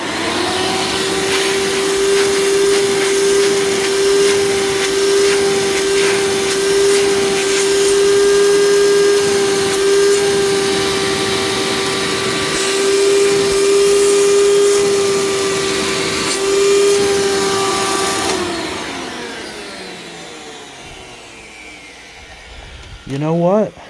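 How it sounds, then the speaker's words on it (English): A 1993 Hoover Runabout vacuum cleaner runs loudly with a steady motor whine and rushing suction for about eighteen seconds, then winds down with a falling tone as it switches off, followed by a brief clunk. "Let's test out the suction."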